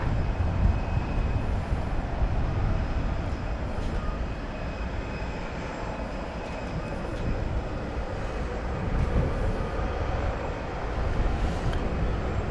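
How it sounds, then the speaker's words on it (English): A UPS Boeing 767 jet taxiing at Dallas Fort Worth Airport, a steady broadband engine rumble and whine heard from a distance, continuous and even throughout with no talk. "UPS 767 on its way to Louisville, making its way to go over the bridge."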